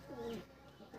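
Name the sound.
pigeon cooing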